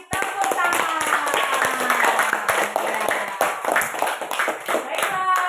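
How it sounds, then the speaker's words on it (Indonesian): A primary school class claps together in a steady burst of applause lasting several seconds, with voices and chatter underneath. "Bagus, kita kasih tepuk tangan."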